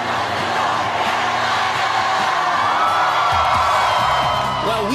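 A large crowd at the American Idol auditions in Greensboro, North Carolina cheers and whoops continuously, a dense roar of many voices with a few shouts rising above it.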